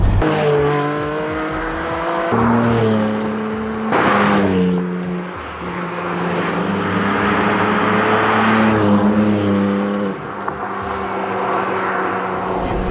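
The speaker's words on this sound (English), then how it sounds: "I pretty much have the sports exhaust on at all times because I just enjoy the sound." A 2021 Porsche 718 Spyder with PDK gearbox and sports exhaust accelerates hard through several gears, its engine note climbing and dropping sharply at each shift, loud and close from inside the car, with no talking.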